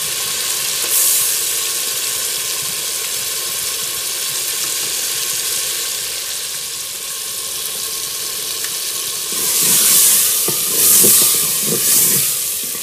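Eggs sizzle steadily in a hot pan, a loud continuous hiss that swells into bursts of sharper spitting and steam near the end, with no talk.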